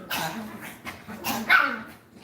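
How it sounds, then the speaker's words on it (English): A Staffordshire bull terrier barks indoors, a few sharp yips and whimpering barks spread across a couple of seconds, close by and fairly loud. "Your staffy just heard Bowie bark and now they're looking around."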